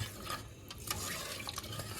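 A spoon stirs salted water in a pot for Thiruvananthapuram-style chicken dum biryani, giving a close, steady scraping and sloshing with a few brighter clinks against the metal.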